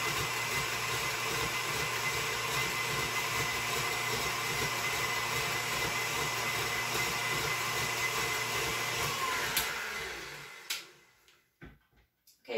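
An electric whisk beats a vegan royal icing mixture until frothy, a steady loud whirring drone running alone for about ten seconds before it cuts off, followed by a few faint knocks.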